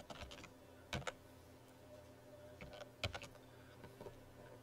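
Keys clicking on a computer keyboard while entering an Excel date formula, in short bursts of quick taps with gaps between them, faint against a low room hum.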